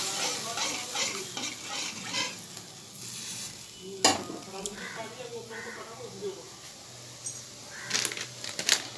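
Spices hit a hot pan for a potato and pointed gourd curry, frying with a soft steady sizzle while a spatula scrapes and clinks repeatedly, with a sharper knock midway; someone talks quietly over the cooking.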